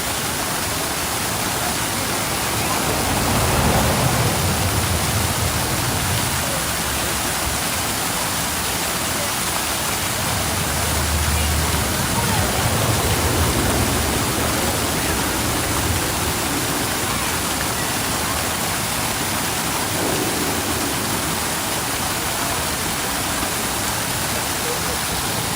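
Fountain water splashes and sprays continuously at Dollywood in the Smoky Mountains, a steady broadband rush with faint talk now and then underneath.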